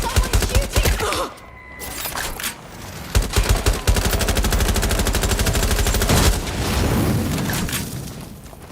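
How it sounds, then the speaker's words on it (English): Rapid automatic gunfire and bursts of shots crackle in a Watch Dogs Legion firefight, loud and nearly continuous with a brief lull, then dense volleys resume. "Someone's shooting."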